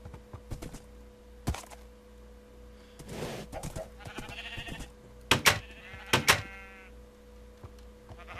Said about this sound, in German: Dann vermehren wir noch unsere Schafe unten.